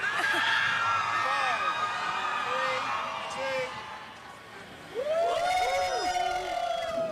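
A crowd at a Formula E race in Mexico City cheers and whoops for driver Oliver Rowland, a dense, loud wash of many voices that dips briefly mid-way, then surges again with shrill, rising calls.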